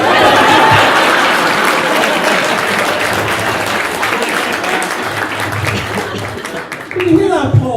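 Wedding guests at a humanist ceremony applaud the wedding party, a loud sustained burst of clapping that fills most of the clip before thinning out, with voices mixed in.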